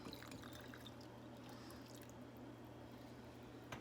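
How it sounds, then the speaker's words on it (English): Two cups of water are poured into a cooking pot for a one-pot vegetarian chili mac, a soft, steady liquid trickle with light splashing, faint and continuous for several seconds. "I'm going to add 2 cups of water"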